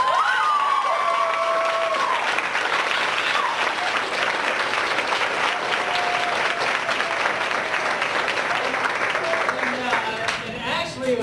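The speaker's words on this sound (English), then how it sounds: "We also need to give a big round of applause to Renee Sigmund and the Culinary Arts class." A school theater audience applauds the culinary arts class after a high school play, with dense, sustained clapping from a large crowd, steady throughout and fading slightly at the end, with scattered voices mixed in.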